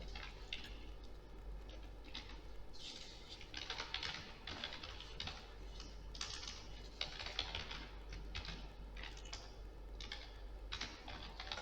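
Rapid, light key clicks come from a computer keyboard as a browser address is typed, in uneven bursts at low level, close by, with no voice.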